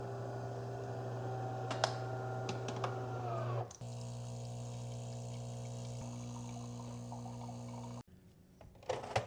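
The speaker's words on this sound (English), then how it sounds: "let's make some coffee. I'll tell you what, this machine will spoil you." Home espresso-style coffee machine brewing, a steady pump hum with tonal whine and gurgling liquid, shifting pitch partway through and stopping near the end with a few soft clicks, close and alone.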